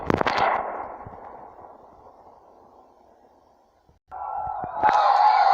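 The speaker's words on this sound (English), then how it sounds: "Suddenly, there's a second, much louder explosion." Loud explosion aboard the ocean liner Lusitania as it sinks: a sharp, heavy blast that rolls into a long decaying rumble, followed after a pause by a sudden burst of hissing, rushing noise.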